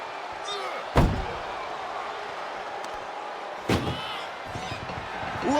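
Ambulance door in WWE 2K24 slams shut twice with heavy metallic bangs amid a constant arena crowd roar, with commentary voices talking underneath.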